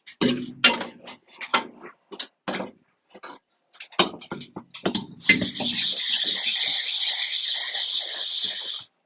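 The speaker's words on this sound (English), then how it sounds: "Okay, I'll do one more scrub." Screen-printing screen being scrubbed, a series of separate short rubbing strokes followed by a longer continuous hissing scrub, close and fairly loud.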